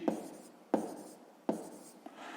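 Pen or pencil marks on paper while a math calculation for a sixth-grade exercise is written out, three sharp taps about three-quarters of a second apart, each followed by a soft scratching stroke, close and quiet with no talk.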